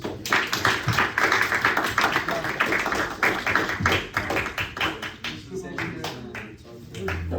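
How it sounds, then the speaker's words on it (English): A classroom group claps for a student group, a dense patter of many hands, close and lively, thinning toward the end with voices mixed in underneath. "can you give them a round of applause?"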